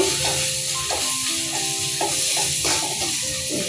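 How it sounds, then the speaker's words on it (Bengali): Spices frying in hot oil for a Bengali village meat pulao, a steady sizzle with repeated scraping strokes of stirring at a regular rhythm, close and fairly loud, no voices. "এখন আমি একটু তেলে একটু নাড়াচাড়া দিতেছি"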